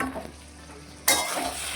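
Elephant foot yam stalks with fried potato cook in goat fat. After a quiet moment, stirring starts with a sudden, loud, continuous sizzle and scraping in the pan.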